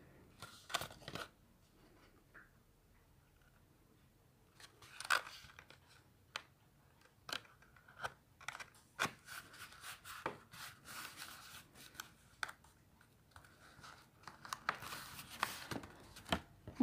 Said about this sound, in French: Donc je vais découper finalement ce qui dépasse un peu